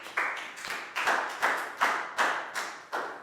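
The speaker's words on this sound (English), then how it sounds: "High five and a big round of applause for Nadia." Applause for a student in a primary school maths lesson, heard as a series of about eight evenly spaced, fairly faint claps in a steady rhythm.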